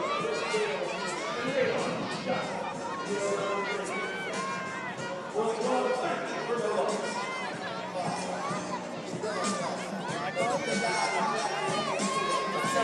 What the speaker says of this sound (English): That stirred the crowd up a little bit.